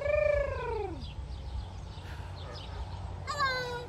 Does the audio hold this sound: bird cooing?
yes